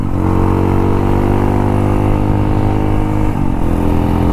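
A modified Hero Impulse motorcycle fitted with a Karizma engine roars loudly and continuously as it accelerates during a test ride. Its engine note climbs steadily in pitch, with a brief dip near the end.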